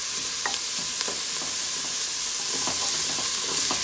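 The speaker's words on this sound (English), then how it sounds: "So I'm going to give this a stir to mix in the garlic and the onion." Garlic and onion sizzle steadily in a pot while a spoon scrapes and stirs through them in irregular strokes, close and loud, for a Guyanese pigeon peas cook-up.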